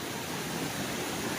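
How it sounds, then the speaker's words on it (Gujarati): Floodwater rushes from a breach in the Ojat river during heavy monsoon rain near Dwarka. The roar is loud, broad and unbroken, heard from close by with no voices. "ઉભેશ પાણી આવે છે, કળસમા પાણી."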